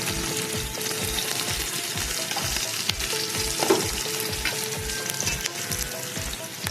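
Beef tripe sizzles steadily in hot spiced oil while a utensil scrapes the pan in a regular stirring rhythm, close and continuous with no talk.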